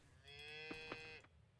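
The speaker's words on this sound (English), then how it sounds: "Dude, these cows are so cute." Cows mooing in the farming game Coral Island, two or three overlapping harmonic moos that swell and hold for about a second, with short chirpy game sounds above and a low steady background hum.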